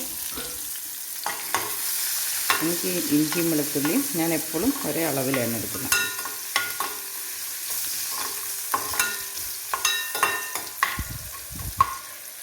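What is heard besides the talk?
ginger and garlic crackling while frying in oil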